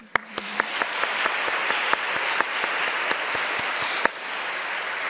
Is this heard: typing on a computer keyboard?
no